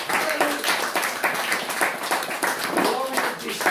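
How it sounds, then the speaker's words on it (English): A church congregation claps in praise during a sermon, a sustained crowd of hands clapping with rhythmic surges, voices mixed in beneath. "Give me clap praise to the Lord."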